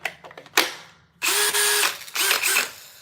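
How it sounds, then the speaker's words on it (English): A cordless drill run as a test, two loud bursts of whirring motor with a ratcheting edge, each lasting about half a second or more, preceded by a few handling clicks, with no speech. "Okay, my drill is working."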